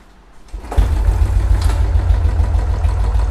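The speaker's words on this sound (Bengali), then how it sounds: "গাড়িটা নিউট্রাল করে স্টার্ট করবো, স্টার্ট করে দেখাবে, একদম স্টার্ট করে দেখাবো।" A Royal Enfield Classic 350 motorcycle starts after a quiet moment, its engine catching within a second and settling into a steady, loud, close idle with a low throbbing thump and no talking.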